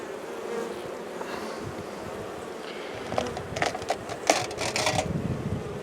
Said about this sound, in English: There's a bee there with some pollen, looking for somewhere to put it.